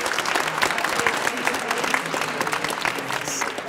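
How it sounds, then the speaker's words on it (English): Audience applause at a high school spring concert, a steady wash of many hands clapping at moderate loudness, with some crowd noise mixed in. "you can applaud"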